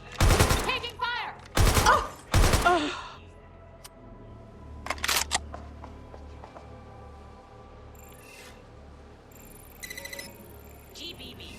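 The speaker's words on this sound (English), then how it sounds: "Taking fire!" Gunfire in Watch Dogs Legion erupts in loud, dense bursts of rapid shots early on, followed by scattered fainter cracks and a quieter mix of electronic tones and game ambience.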